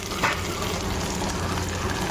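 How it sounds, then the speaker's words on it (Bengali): Mutton pieces hit browned onions frying in hot oil in a pot for mutton and potato curry, giving a steady close-up sizzle with a brief louder splash near the start. "এবার আমি মাটনটা ঢেলে দেবো।"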